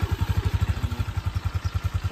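A Honda Wave motorcycle engine while riding, a close, rapid and even thumping putter with a steady rhythm and no talk.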